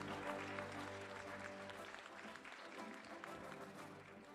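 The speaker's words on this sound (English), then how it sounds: "let's give them another round of applause for this high academic achievement" Quiet audience applause for nursing graduates at their graduation ceremony, a soft patter of many hands over a sustained tonal hum, fairly constant and heard from afar.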